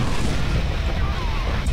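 A bomb explodes in the Deadpool video game, a loud sustained booming rumble heavy in the low end that fills the short moment without a clear break.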